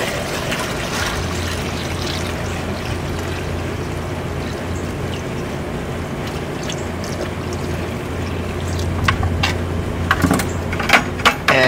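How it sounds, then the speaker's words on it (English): Water poured into a swimming pool pump basket, a steady trickling, gurgling flow with a low hum underneath, growing splashier and more uneven toward the end. "we're going to fill the pump basket up with water"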